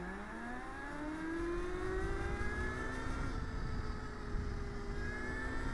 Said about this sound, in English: I'm going to twist, and you can kind of hear the engine with that delay.